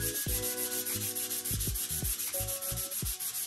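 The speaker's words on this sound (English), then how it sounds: "I'm gonna use some fine sandpaper just to give it a nice going over" Fine sandpaper rubbed over thrifted furniture for a light going-over, giving a steady scratchy hiss with quick repeated strokes and short scraping sweeps, close and fairly loud with no talk.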